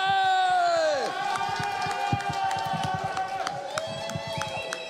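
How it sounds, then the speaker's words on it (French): A crowd cheers and claps for the world champion of fresh french fries, the sharp claps scattered throughout and mixed with steady ringing tones, with a near-constant level for about five seconds. "Applaudissements pour Aurel Mestré"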